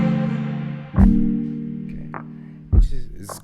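Percussion part made with XLN Audio Life in Ableton, played without the arpeggiator: a sustained tonal bed punctuated by a few sparse, punchy hits, loud and close, with no talking.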